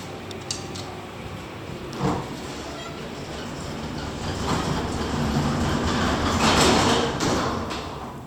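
Hydraulic elevator doors at a shopping centre roll shut with a low mechanical rumble that swells and fades, preceded by a soft clunk, in a quiet enclosed space.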